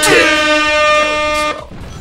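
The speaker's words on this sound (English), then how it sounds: "if you could add in some air horns whenever I say" A loud, blaring air horn sounds in one sustained blast, cutting off abruptly after about a second and a half.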